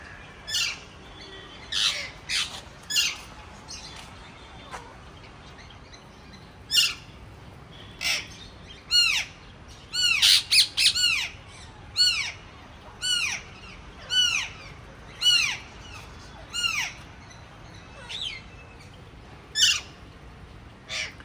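Lovebirds at Warangal zoo give a run of shrill, piercing squawks in irregular bursts, some in quick clusters, fairly close and loud over a quiet background with no talk.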